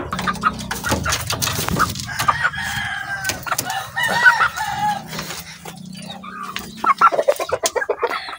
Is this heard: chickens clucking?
yes